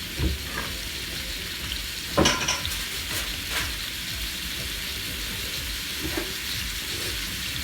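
Pork ribs fry in a hot pan with a steady sizzle, broken by a few clattering stirs and scrapes of a utensil against the pan.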